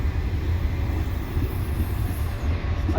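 Trains rumble at a busy Quimper railway station, a steady low roar of rolling stock and engines filling the space without talk.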